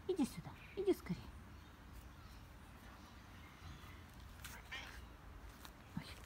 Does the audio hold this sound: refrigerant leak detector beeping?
no